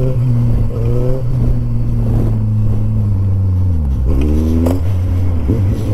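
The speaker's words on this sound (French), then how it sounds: "la moto elle est relevée, on est reparti" A four-cylinder motorcycle engine revs hard through its gears while wheeling on its back wheel, with rising and falling harmonic engine tones and a sharp throttle blip, loud and close.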